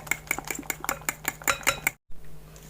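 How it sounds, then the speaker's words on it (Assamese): Rapid whisking of cake batter mixed with oil, a quick run of close, bright metallic clinks and scrapes against a bowl, then a brief break and a softer stroke. "মই এতিয়া আকৌ এবাৰ পিটিলম ভালকে"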